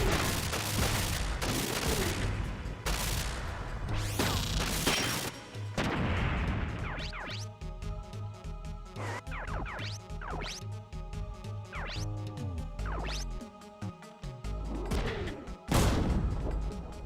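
Mech weapons firing at a turret in the video game Front Mission 3: dense, continuous bursts of heavy gunfire and booming impacts over a busy game soundtrack, loud and sustained throughout.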